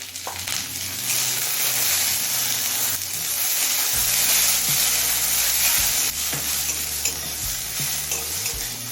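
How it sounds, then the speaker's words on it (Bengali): Potato and a chopped medium onion frying together in a pan, with a dense, close sizzle and repeated stirring scrapes that shift partway through, and no speech. "আলু আর পেঁয়াজটা তিন চার মিনিট ভেজে নিলাম"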